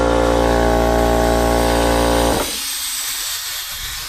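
A go-kart horn's air compressor, wired with its leads swapped, gives a loud steady buzzing hiss close up for about two seconds, then cuts off abruptly and leaves only faint background noise.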